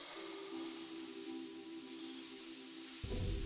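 Cold, steam-like gas hisses steadily in the sci-fi game Breathedge, a broad continuous rush with a faint tone beneath, swelling louder and rougher in the last half second.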